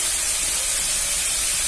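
Ground cumin hitting hot oil for a rohu fish curry with carrot gives off a loud, steady sizzling hiss that stays close and unbroken the whole time, with no voices.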